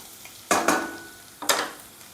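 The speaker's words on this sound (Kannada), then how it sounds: "ಈಗ ಹೆಚ್ಚಿಟ್ಕೊಂಡಂತಹ ಶುಂಠಿನ ಹಾಕ್ತಾ ಇದ್ದೀನಿ" Chopped ginger sizzling and being stirred in a hot pan for prawn chilli, two bright bursts of frying noise about a second apart, close and moderately loud with no voices.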